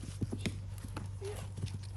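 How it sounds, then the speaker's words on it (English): A four-year-old mare canters, her hooves clip-clopping in a quick rolling rhythm, close and fairly quiet, with a low steady hum beneath. "This is gonna be canter."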